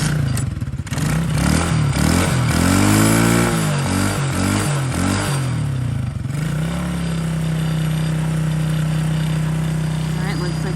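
A cold dirt bike engine, choke on, cranks and catches, then revs in rising and falling bursts before settling into a steady, loud idle. Voices can be heard faintly in the background.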